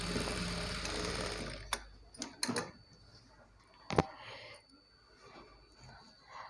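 A sewing machine runs steadily while stitching the seam of a Punjabi dress pant, then stops, leaving a few mechanical clicks and a sharp knock in the quieter remainder.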